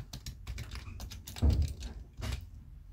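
Typing on a computer keyboard while entering text in Google Sites: a close run of light, irregular key clicks with a heavier thump midway, no speech.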